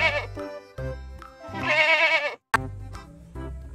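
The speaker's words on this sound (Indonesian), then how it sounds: "Ada kambing teman-teman." Goat bleating in the dinosaur park game Jurassic World Evolution 2, two loud wavering bleats with a short pause between, clear and close with no talk over them.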